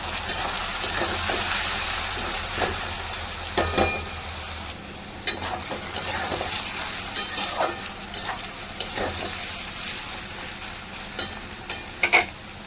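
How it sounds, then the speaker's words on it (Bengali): Carrot and cauliflower fry with potato in a pan for soybean chowmein, a steady sizzle broken by repeated scraping strokes of a spatula as the vegetables are stirred, close and fairly loud. "গাজর আর ফুলকপিটা নেড়ে নেবে।"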